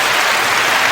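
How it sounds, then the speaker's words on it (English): A short burst of hand clapping on a podcast, dense and steady for under a second, loud and close with no talk over it. "I gave you a little clappity clap"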